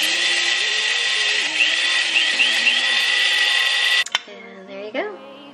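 A coffee grinder grinding flaxseed whirs at a loud, steady high pitch for about four seconds, then stops; a voice speaks briefly afterward.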